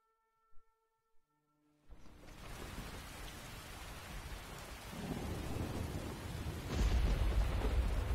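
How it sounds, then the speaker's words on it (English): Steady heavy rain and rumbling thunder in a Skyrim video game roll in after a few faint tones, with the storm growing louder and a deep thunder boom near the end. "Alright, thunderstorm's starting to let up."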